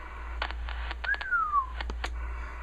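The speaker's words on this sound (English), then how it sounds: "We're going to give it a little whistle." Whistle into a Uniden Grant XL CB radio, a short thin tone sliding downward amid scattered clicks and taps over a low constant hum.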